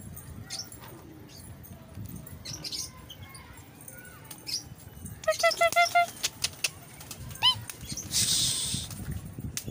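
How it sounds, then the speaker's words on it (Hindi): Pigeons at a rooftop loft, including a newly released bird, give short clustered calls and brief wing flutters midway and near the end over constant outdoor background noise. "ये देखें वो बराबर वालों का एक कबूतर है"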